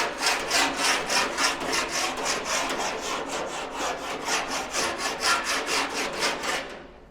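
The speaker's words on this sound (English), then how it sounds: "using the body file, which is this, which is pretty savage and aggressive" Coarse body file rasping across filler on the wing of an Aston Martin DB6, in rhythmic back-and-forth strokes at about three per second. The strokes are close, harsh and even, and they fade out at the end.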